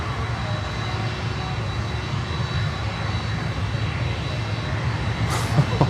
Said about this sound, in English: C-17 heading towards Doral VOR.